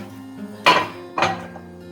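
Two sharp metallic clinks as a utensil strikes a pan while about a kilo of beef mince is broken up during cooking, set against a quiet hum.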